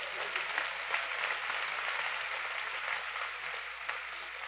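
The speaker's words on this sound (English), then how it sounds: "when I'm hearing parents clap" Parents clap at a university school of education graduation ceremony, a steady, distant, moderately quiet wash of applause with no talk over it.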